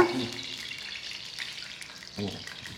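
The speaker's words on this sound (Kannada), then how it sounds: "ಸಾಸಿವೆ ಚಟಾಪಟ ಅನ್ಬೇಕು ಇವಾಗ" Mustard seeds pop and splutter in a little hot oil in a pan for potato palya, a crackly sizzle with scattered sharp pops and a louder burst near the end, close up.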